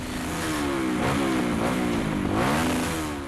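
A motorcycle engine revs up and down in steady waves, a loud, close, buzzing mid-pitched roar that swells and eases twice.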